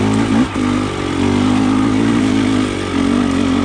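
KTM 300 XC TPI two-stroke dirt bike fitted with a TSP low-compression head, held in third gear and feathered on the clutch through tight, slow terrain; a steady, loud, close engine drone with small throttle dips.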